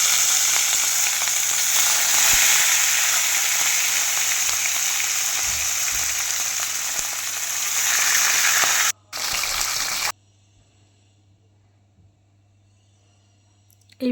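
Rohu fish pieces fry in hot oil with a loud, constant crackling sizzle that holds steady, then cuts off abruptly, leaving near silence.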